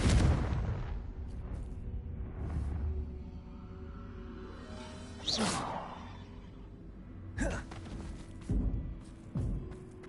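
The Confringo explosive spell is cast in the video game Hogwarts Legacy. A whooshing burst is followed by a few booming impacts spread over several seconds, with a deep rumble that fades between the hits.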